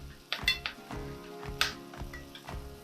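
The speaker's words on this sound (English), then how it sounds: "And then you can just move your pan and spoon it over your beef." A spoon clinks against a pan as melted butter is basted over steak, with soft sizzling beneath a few light metallic taps close by.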